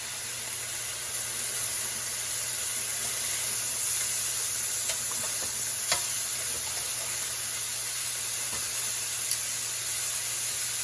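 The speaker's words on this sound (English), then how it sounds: "I've been cooking the chicken for about 4 minutes on this side, and I'm gonna go ahead and flip it now" Chicken for a buffalo chicken Alfredo sizzles in a skillet after being flipped, producing a constant loud hiss of frying with occasional faint pops and no voices.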